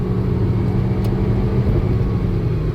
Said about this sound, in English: Let that little 2-liter run us on up to speed.